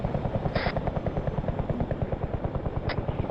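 Chinook helicopter hovering in the video game Arma 3, a steady rhythmic rotor thump with a constant engine drone, loud and close, plus two brief high-pitched chirps, without talk.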